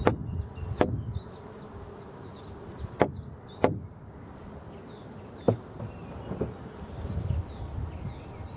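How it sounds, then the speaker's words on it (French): Bees buzz steadily around forest beehives in springtime, a low insect drone running throughout, broken by several sharp knocks or taps and occasional higher chirps of birds in the background. "qu'il y a de l'abeille partout là"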